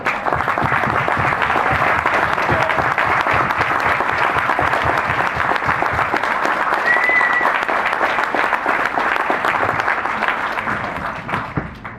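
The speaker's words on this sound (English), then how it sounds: "could you please stand so we can give you a round of applause today?" A large crowd at a political party dinner applauds loudly and steadily for veterans for several seconds, with the clapping tapering off at the end.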